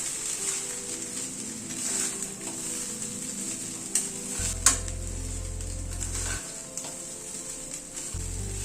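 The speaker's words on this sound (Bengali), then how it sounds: "এবার রাইসটা অ্যাড করে দিচ্ছি।" Rice stir-fried with Schezwan fried rice masala in a pan, a steady close sizzle with soft scraping and stirring, no talk.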